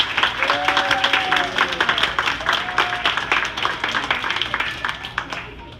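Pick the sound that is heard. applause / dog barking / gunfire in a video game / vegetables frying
applause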